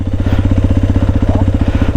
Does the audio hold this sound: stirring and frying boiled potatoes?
no